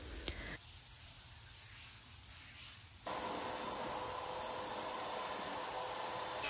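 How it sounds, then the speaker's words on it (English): Sanding wooden dresser drawers by hand with 220 grit sandpaper, a steady broadband rubbing hiss that grows louder and more continuous partway through. "I came back and lightly sanded with 220 before adding the second coat of color"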